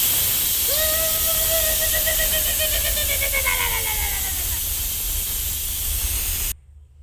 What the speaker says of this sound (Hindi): कुकर ने सीटी दे ली है